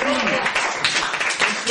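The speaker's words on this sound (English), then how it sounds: "Thank big round of applause for Graham." Audience applause for Graham at a poetry event, a dense, steady wash of many hands filling the whole moment while a voice talks over it.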